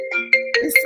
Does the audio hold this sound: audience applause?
no